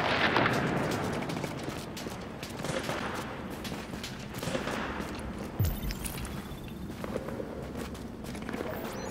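Gunfire in The Division beta: scattered shots and bursts over a busy, noisy game backdrop, with footstep-like movement mixed in, moderately loud throughout with no pauses.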